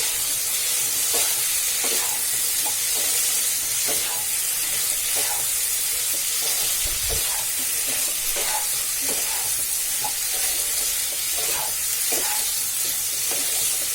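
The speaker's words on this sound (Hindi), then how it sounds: "उसके बाद इसमें हम ड्रम स्टिक और फ्राई किए हुए आलू ऐड करेंगे। इसे मिला के हम भून लेंगे।" Drumsticks and fried potatoes are stirred and roasted in a pan, giving a steady, close hissing sizzle with a repeated rhythmic scrape of a spoon about once a second, heard alone.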